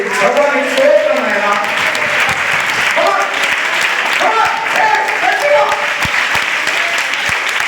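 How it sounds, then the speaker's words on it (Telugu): A church congregation claps loudly and continuously during a praise prayer service, with voices carrying over the dense applause throughout. "గట్టిగా చప్పట్లు కొట్టి"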